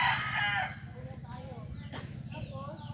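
Roosters at a rural provincial home in the Philippines crow once near the start, loud and close, then fainter fowl sounds and bird calls continue over a steady low background hum.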